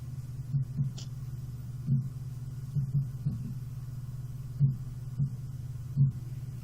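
Deep, echoey heartbeat effect from an audio drama, slow lub-dub thumps repeating at a steady pace over a constant low hum, distant and reverberant, with no voices.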